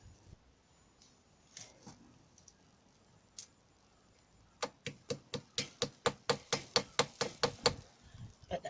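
A fast run of sharp, regular knocks rings out, about a dozen heavy blows in quick succession, following a few scattered taps and quiet shuffling.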